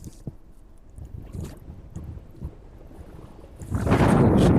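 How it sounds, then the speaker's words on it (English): Strong gusting wind at an airport buffets the microphone, starting as low rumbling gusts and swelling into a loud, roaring blast near the end. "an immense amount of wind gusting towards us"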